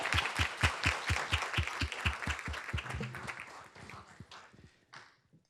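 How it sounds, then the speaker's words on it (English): A room at a school board business meeting breaks into applause for the February drivers of the month, starting with a few loud, evenly spaced close claps that swell into a dense round of clapping and fade out near the end. "Please join me in a round of applause for our February 2026 Drivers of the Month."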